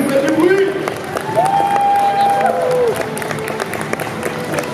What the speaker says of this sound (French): Je vous demande un tonnerre d'applaudissements s'il vous plaît.